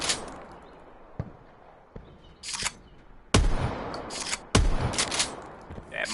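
Bursts of gunfire from the MOG in Call of Duty: Black Ops 4 Blackout, a few sharp scattered shots that become louder, heavier reports toward the end, close and punchy, with no talking.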